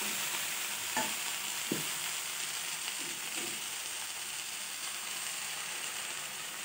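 Eggplant curry, cooked without potatoes, fries steadily in a pan with a constant sizzle, while a spoon scrapes and stirs through it in a few short strokes. No voices are heard.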